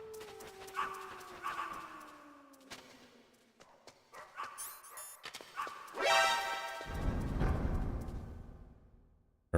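Dogs in the video game Metal Gear Solid bark, yip and whimper in short clustered bursts, with game effects and a rising swell of noise later on, and no talking.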